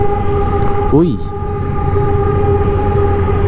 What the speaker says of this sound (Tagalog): May nadaan na tren.